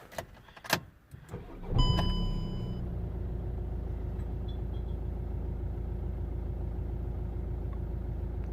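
A VW Golf Mk5 engine cranks with a few clicks and a brief whir, catches, then settles into a steady low idle rumble that continues alone.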